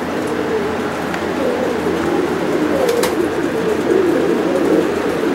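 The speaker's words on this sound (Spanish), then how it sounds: "Y esa es la paloma." A pigeon cooing softly and continuously over low background noise, close by, with no talk.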